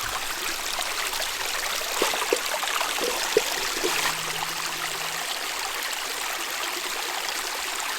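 A freshwater stream at a wild campsite flows steadily and close by, its even broad rush continuing throughout, with a few faint clicks and knocks over the water and no talking.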